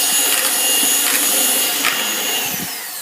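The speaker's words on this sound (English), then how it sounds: "And then, you mix them all together." Carrot cake ingredients with vegetable oil and vanilla are mixed together, heard as a loud continuous whirring hum with a few rhythmic swishes, close and without talk.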